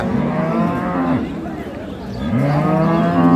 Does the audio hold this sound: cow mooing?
yes